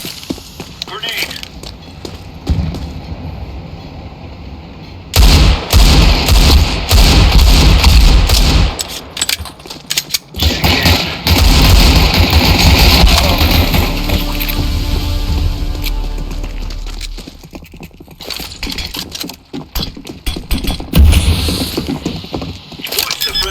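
Gunfire and grenade blasts in the video game Counter Strike 2 come as loud, dense bursts and booms, with voices talking over the chaos.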